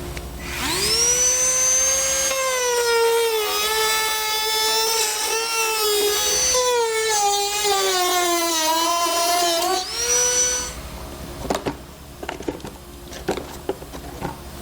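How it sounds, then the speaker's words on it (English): Dremel rotary tool cutting a plastic panel on a 2017 Toyota Prius while a trailer hitch is fitted, a loud close high whine that holds, dips and shifts pitch as it bites, then gives way to scattered light clicks and taps. "Now to cut it, I'm going to use a dremel tool."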